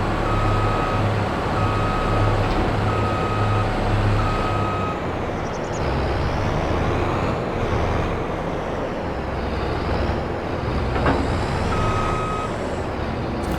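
In Farming Simulator 22, a combine harvester reverses with a loud, evenly spaced electronic beeping for several seconds over a steady engine drone. The beeping stops, then returns briefly near the end.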